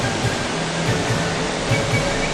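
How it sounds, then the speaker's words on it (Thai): A steady, broadband rush of falling water roars continuously and loudly, with no talking. "ได้ยินเสียงน้ำตกร้อง"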